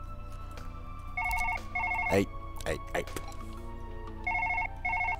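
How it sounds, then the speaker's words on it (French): A telephone rings in Surgeon Simulator 2013, two bursts of electronic double-tone trills at the start and two more near the end, with a voice calling out between them. "Hey, téléphone, va de sonner."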